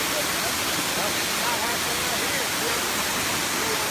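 Erawan waterfall at level 7 gives a steady, loud, broadband roar of falling water that stays constant and close throughout, with no clear talk over it.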